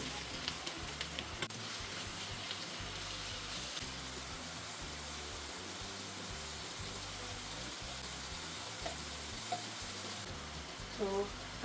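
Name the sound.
onions deep frying in oil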